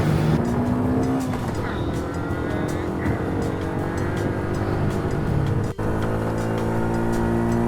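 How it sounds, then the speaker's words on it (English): A moped riding along a road in Phuket, with loud engine drone and rushing wind from on board, passing traffic noise, and a brief sharp dropout near the end. "we're going to jump back on the moped"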